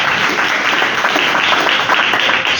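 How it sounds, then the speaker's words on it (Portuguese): A church congregation at a Pentecostal service in Mogi Guaçu claps loudly for Jesus, a dense, continuous roar of applause throughout. "Melo, palmas para Jesus."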